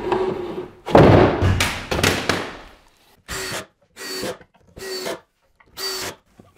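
A power drill drives pocket hole screws into a wooden staircase tread, a few long whirring runs with thuds at first, then four short separate bursts spaced evenly, close and loud with no talking.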